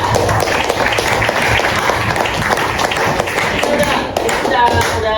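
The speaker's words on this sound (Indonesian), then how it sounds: "tepuk tangan dulu ya" Students at a civic education outreach session in Slipi clapping their hands together, a dense, steady round of applause that carries on throughout with some voices mixed in.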